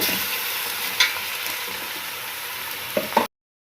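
Mutton frying with onion and garlic in a pot, a steady close sizzle with a few soft stirring clinks, ending abruptly.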